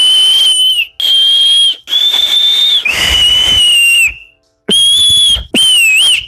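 Loud, shrill finger whistle blown in a series of sustained high blasts with short gaps between them, some bending in pitch at the ends, close and piercing.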